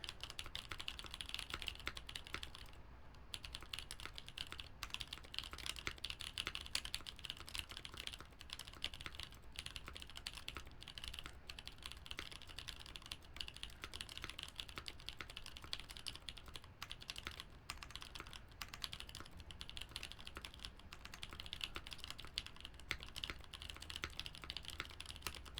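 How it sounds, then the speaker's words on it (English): Continuous, fast typing on a computer keyboard during a livestream, dense rapid key clatter with brief pauses, steady and close throughout with faint music underneath. "and more typing."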